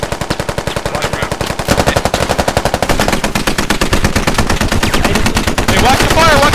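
Rapid automatic gunfire in the Squad video game during a mortar hunt near a building, dense and continuous bursts of loud rattling shots layered with more fire throughout, with faint background voices.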